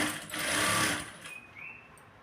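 A sewing machine stitches blouse cloth in one steady, loud mechanical whir that runs for about a second and then eases into quieter, uneven running.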